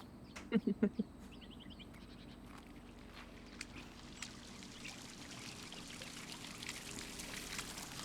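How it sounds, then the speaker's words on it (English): Watering a tomato plant in the video game Botany Manor, a soft steady pouring trickle that starts after a few quick tones at the beginning and continues faintly. "Water the little tomato."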